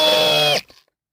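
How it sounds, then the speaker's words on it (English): A hammer drill in hammer mode driving a large fastener, a loud steady buzzing whine for about half a second that cuts off abruptly into silence. "Hammer drill."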